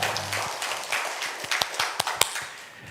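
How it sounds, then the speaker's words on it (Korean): A church congregation gives a short round of applause after worship, scattered claps building to a few sharp, close slaps before fading within about three seconds. "하나님께 영광의 박수 올려드리겠습니다."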